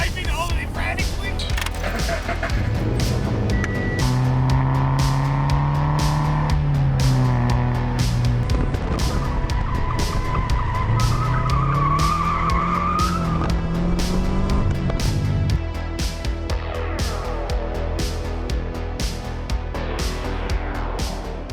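A car driven hard and frantically, with loud engine tones rising and falling steadily throughout, sliding pitch sweeps suggesting skidding or squealing tires, and a dense, constant roar.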